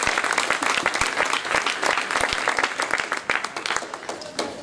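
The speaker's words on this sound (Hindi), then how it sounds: "एक बार सर के लिए जोरदार तालियां बजा दीजिए" Applause from an audience at a talk on assistive technologies for people with visual disabilities: many hands clapping in a steady, dense patter, moderately loud and close. Sharp individual claps stand out throughout.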